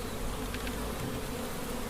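Honey bees buzz steadily around an open beehive, the Paradise Honey hive getting its first honey box, forming a dense, continuous drone close by with no talking.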